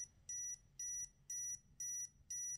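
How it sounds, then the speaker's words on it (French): A buzzer on an electromagnetic field meter with a red LED beeps in a steady rhythm, five short high-pitched pulses evenly spaced about half a second apart, quiet and alone. "j'ai quand même une LED rouge avec un buzzer"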